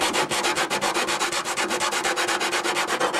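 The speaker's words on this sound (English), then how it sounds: "this little sanding block that Les made looks like it'll be just about the right size." A small handmade sanding block dresses a notch in the wood of a Windy 739 model plane, giving loud, fast, evenly rhythmic rasping strokes that run without a break, with no voices.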